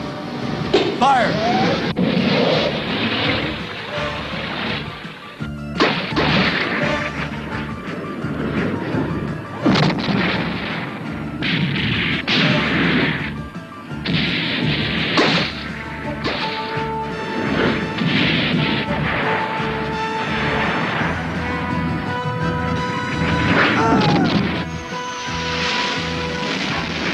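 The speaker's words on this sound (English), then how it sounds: "Prepare to fire anti-aircraft missiles." Anti-aircraft missiles launch and explode during an animated submarine battle, loud crashing blasts and booms recurring throughout amid sea noise and a steady music bed, with voices speaking over the action.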